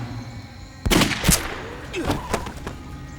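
Several sharp, loud gunshots fire in an uneven cluster, two close together, then a few lighter cracks follow.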